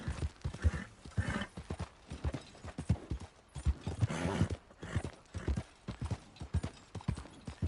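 Galloping horse hooves from Red Dead Redemption 2, a steady run of clip-clop beats with a possible whinny, loud and close throughout, with no talk over it.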